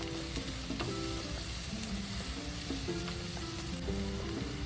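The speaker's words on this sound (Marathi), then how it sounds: "तर आता हा कांदा परतून घेऊया" Chopped onion sizzles and sautés in a pan over a medium gas flame, a steady close crackling hiss with occasional scrapes and clinks of a spoon stirring, no talk.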